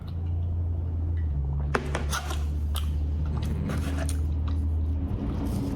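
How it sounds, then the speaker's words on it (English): Someone bites and chews a crunchy breaded Brazilian coxinha filled with chicken and catupiry, giving several sharp crackling crunches over a steady low room hum. "in an outside breading that's still moist, and then the outside is crunchy"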